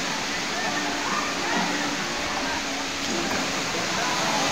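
Dampalit Falls waterfall gives a steady, loud broadband rush of falling water that fills the whole clip without a break, with people talking over it.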